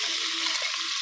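Chicken sautéing in a hot pan gives a loud, even, close sizzle that runs continuously for the whole brief moment, with no voices.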